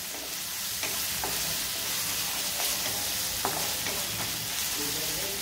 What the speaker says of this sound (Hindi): पहले 1 मिनट हम लोग अदरक लहसुन को अच्छे से भून कर लेते हैं